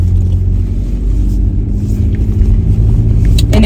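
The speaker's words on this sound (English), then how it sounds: "I like to let the car warm up, even though it's a new car." A new car's engine warming up at idle gives a loud, steady low rumble close by, ending in a brief rustle of movement.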